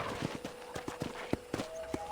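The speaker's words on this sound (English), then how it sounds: "Okay, let's see if you can still ride a horse." Horse hooves clip-clop at a steady riding gait across a ranch in the video game Red Dead Redemption, a run of sharp, evenly spaced hits up close, with a faint tone droning underneath.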